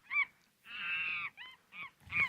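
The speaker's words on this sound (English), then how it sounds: "whenever Lee calls in, it's a monkey chatter" Ringtone of chattering monkey calls on an iPhone: several short, shrill, honking squawks in quick bursts, with one longer sustained cry in the middle, close and fairly loud.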